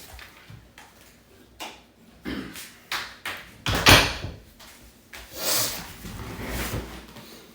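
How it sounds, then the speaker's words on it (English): A door swings shut indoors, a few knocks and a thud from the latch landing mid-clip, with quieter handling taps before and after and no talk. "let me close this door because here come my dog"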